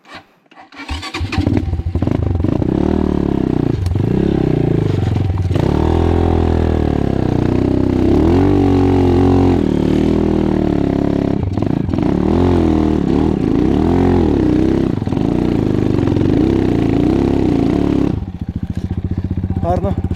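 A KAYA 512 motorcycle engine starts and then labors up a slope in zigzags, revs rising and falling with load, loud and close throughout before briefly easing near the end.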